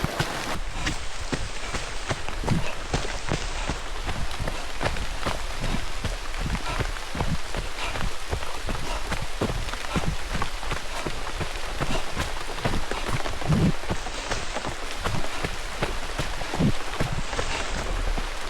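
Steady rain pours and patters through a jungle trail in the Seychelles during a trail run, a dense continuous hiss close by with footsteps beating rhythmically underneath throughout.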